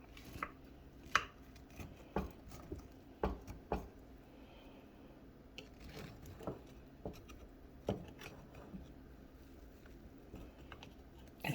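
A knife cutting Martha White cornbread in a small skillet: quiet, uneven taps and scrapes of the blade against the pan, some sharper knocks, spaced irregularly over a low background with no talking.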